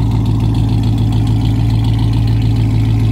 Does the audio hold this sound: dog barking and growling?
no